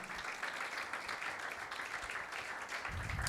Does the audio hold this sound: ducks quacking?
no